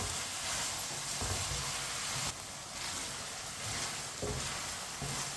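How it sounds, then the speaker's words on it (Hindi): Mixed vegetables for sabzi seviyan sizzle and fry in a pan while a spoon stirs them, a steady close hiss with scraping stir sounds and a brief dip partway through. "इसे भी इसी तरह चम्मच चलाते हुए पकाना है ताकि सब चीज़ें हमारी अच्छी तरह पक जाए।"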